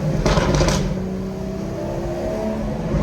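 BMW M240 engine held around 3,000 rpm, a steady low drone with a brief brighter burst at the start, close and moderately loud inside the car.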